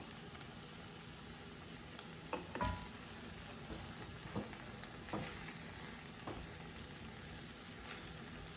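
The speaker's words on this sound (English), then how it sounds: "Let the garlic saute or simmer for about a minute." Garlic and flour cook over low heat in a pan for shrimp and grits, giving a quiet, steady sizzle. A few soft clicks and stirring taps stand out at points, and no one speaks.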